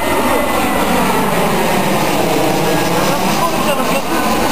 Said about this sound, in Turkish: 3 dakikaya bir geçen uçaklar.